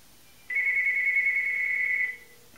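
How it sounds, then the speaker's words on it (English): A home telephone ringing from an incoming call placed by a cell phone, a single steady electronic tone lasting about a second and a half, fairly close and clear over a quiet room. "what I'm going to do is I'm going to call my home phone from it."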